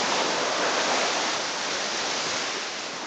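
Surf at Cabrera Beach on a warm, calm day makes a continuous broadband wash of waves, steady and fairly loud, with no voices.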